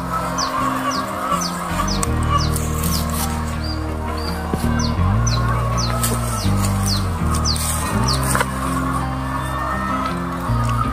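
Laying hens cluck and chirp beside a chicken coop, many birds calling in repeated short notes over a steady background hum, with louder rhythmic clucking layered throughout.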